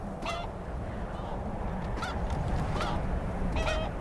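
A few short honking chicken calls spaced over a steady low rumble, fowl squawking in a Skyrim Special Edition game scene.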